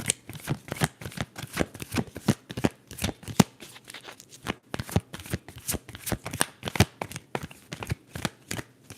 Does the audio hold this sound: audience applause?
no